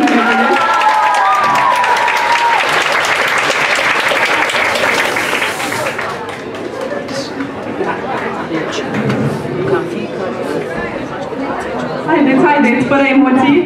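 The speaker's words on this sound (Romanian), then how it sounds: "Haideți să-i mai aplaudăm o dată" Loud crowd applause and cheering at a high school freshman ball at a national college in Romania, with shouts and chatter mixed in, easing slightly midway and then rising again.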